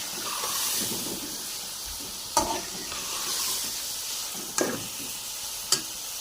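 Potatoes and peas frying in spiced oil for aloo matar pulao, stirred with a spoon: a constant soft sizzle with three distinct sharp spoon knocks against the pan.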